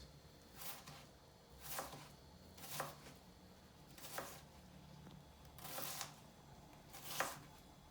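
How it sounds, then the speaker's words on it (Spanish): A knife chops through an onion cut against its lines, six or seven crisp strokes against a board at a steady, unhurried pace, close and fairly quiet with no talking. "Aquí es cuando vamos a cortar a la cebolla en sentido contrario a las líneas."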